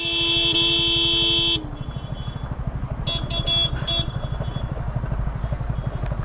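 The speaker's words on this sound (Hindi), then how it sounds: "उन लोग को हॉर्न मारना।" A loud vehicle horn blares steadily for about a second and a half, then cuts off, leaving a rumbling motorcycle engine and a few faint short toots.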